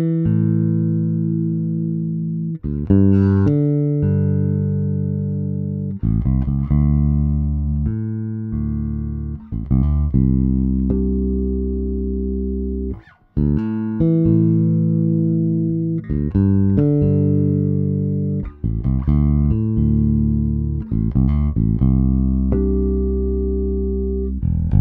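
A bass guitar plays a melodic line of plucked notes with full, sustained low tones, recorded through a Caveman BP1 preamp combined with a REDDI tube DI, played alone and continuous with only a brief pause midway.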